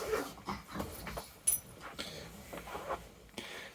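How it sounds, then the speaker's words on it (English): Dogs playing nearby make scattered scuffles, soft whimpers, panting and brief yips in irregular bursts at moderate loudness. "The noise, by the way, is the dogs playing."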